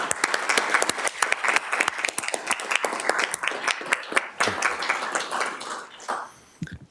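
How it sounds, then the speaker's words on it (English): A round of applause at a school board meeting, with many distinct hand claps forming a sustained, moderately loud ovation that thins and fades near the end. "Please join me in expressing our appreciation to her service with a round of applause."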